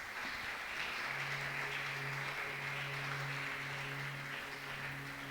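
A church congregation applauding and cheering in praise, steady continuous clapping with a sustained hum underneath, moderately distant and even throughout.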